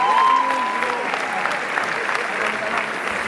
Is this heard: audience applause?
yes